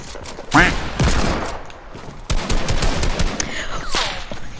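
Rapid bursts of gunfire in a video game, loud and close, with fusillades and single cracks through most of the clip, alongside other in-game effects.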